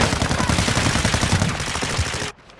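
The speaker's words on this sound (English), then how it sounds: "Some guy shooting from the hill too" Rapid automatic gunfire in a video game from a player shooting off a hill, a dense unbroken burst of shots lasting about two seconds before cutting off abruptly.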